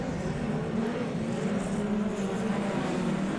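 Midget race cars circulating an oval track at Oceanview on opening night, their engines a continuous loud droning roar with no pauses, as if several cars pass at middle distance.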